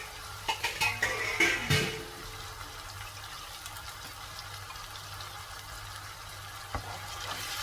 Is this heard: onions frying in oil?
yes